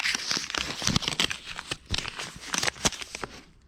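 Loose paper being crumpled and shuffled inside a 1990s Volkswagen Golf 3, close crinkling and rustling in uneven bursts with short pauses, no talk.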